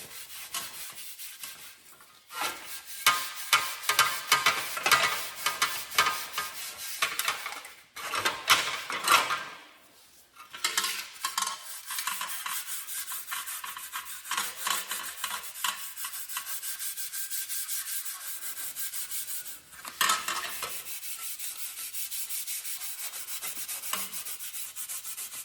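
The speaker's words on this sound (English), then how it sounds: "And we'll just start scrubbing." A fender from a 1952 Columbia bicycle is scrubbed to remove corrosion, giving a rough, rhythmic rubbing and scraping in bursts with short pauses, close and loud, with no talk.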